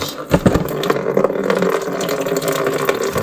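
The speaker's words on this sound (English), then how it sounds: "loosen up that bottom piece so that we can let the rest of that water out" Water gushes and splashes continuously from the bottom of a toilet tank as a plumber loosens a lower fitting during a wax ring replacement, loud and close with irregular sloshing throughout.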